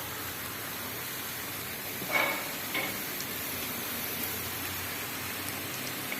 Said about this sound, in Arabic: كما شفتوا المخرقه ديالنا كنديروها في الزيت سخونه